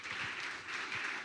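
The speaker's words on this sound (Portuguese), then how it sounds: "Aplauda Jesus." A church congregation claps for Jesus at the close of a Portuguese prayer, with a short burst of steady applause filling the room.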